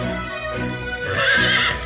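A horse neighs in Fire Emblem Warriors: Three Hopes, a loud close whinny that rises into a shrill high peak, with a few soft hoof thuds beneath it.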